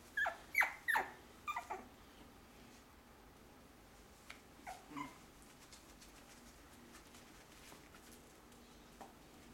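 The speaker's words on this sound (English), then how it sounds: "Our puppies, our little puppies," Shih Tzu puppies, five and a half weeks old, give a quick run of four thin, high whimpers up close, followed by a few fainter scattered squeaks in a quiet room.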